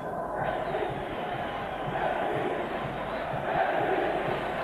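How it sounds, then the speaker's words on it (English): A football stadium crowd roars steadily and loudly in relief during an international match between the Czech Republic and the Netherlands, a dense, sustained wash of voices. "I think the crowd roaring with the relief about that"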